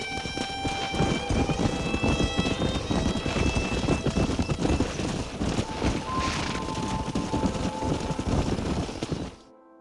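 Horse hooves clip-clop steadily and close in Red Dead Redemption, a rapid continuous gallop-like patter over wind noise that runs almost the whole stretch before cutting off abruptly.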